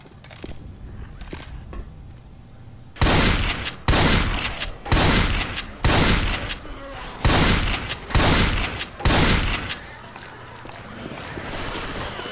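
Gunfire in the zombie shooter Left 4 Dead 2 during a Parish level: seven loud, rapid bursts of shots in a steady rhythm, with quieter ambient game noise before and after.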